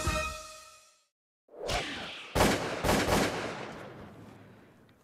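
Shotgun shots during a bird hunt in Uruguay: a brief tonal sound is cut by silence, then several loud, sharp blasts follow in close succession, each with a long decaying tail outdoors.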